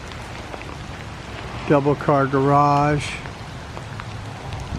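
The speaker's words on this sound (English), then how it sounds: "I know it's raining." Steady rain falls outside a house in Pensacola, a constant hiss underneath someone speaking briefly.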